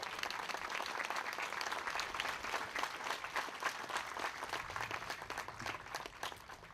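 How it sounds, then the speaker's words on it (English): Dense, steady applause from an audience at a Hometown Heroes banner dedication ceremony, many hands clapping together at an even level throughout, with no pauses. "Let's give those individuals a round of applause."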